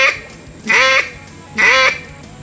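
Two drawn-out quacks blown on a duck call, each held near a third of a second at a raised pitch, repeated evenly and close with short silent gaps between and no talking.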